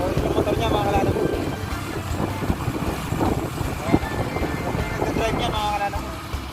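Boat motor droning as the vessel follows another boat, steady and fairly close, mixed with wind buffeting and water noise while someone talks over it.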